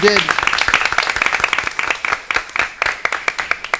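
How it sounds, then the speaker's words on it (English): Board of Education meeting attendees clap for two honorees, distinct claps from a small group with a voice at the start, thinning to sparse, sharp individual claps. "a big round of applause for them"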